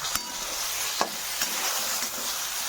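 Okra fries in a pan, a constant close sizzle broken by a few sharp scrapes and taps of a spatula stirring it, with no talking.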